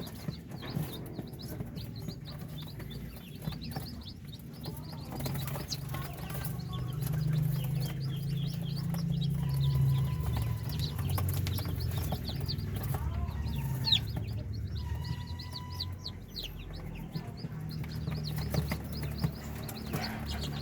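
Native Darag chickens and newly hatched chicks cluck and peep steadily, a busy scattering of calls layered over a constant low rumble of background noise.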